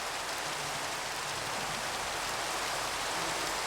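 Steady, dense rain pours down during a storm in Minecraft, a constant hiss of falling water with no pauses and no other sounds.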